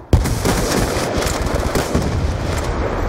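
Loud, sustained automatic gunfire in Black Ops 2 on the Standoff map, a dense rapid rattle of shots close up with a few heavier booming hits.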